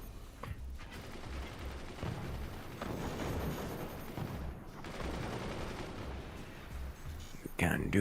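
A video game battle with dense, continuous minigun and mortar fire forming a steady roar of blasts and rattling, heard moderately loud under a stretch of ongoing game noise.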